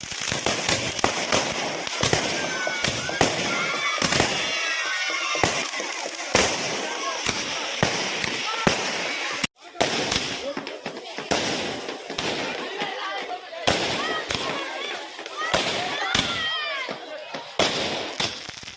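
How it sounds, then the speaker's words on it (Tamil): Firecrackers burst during a public street celebration of the Chandrayaan-3 moon mission. They make a dense, continuous barrage of sharp cracks and pops, loud and close, with brief gaps and voices faintly mixed in. "அது பட்டாசுலாம் வெடிச்சு வேற லெவலில் இருந்துச்சு."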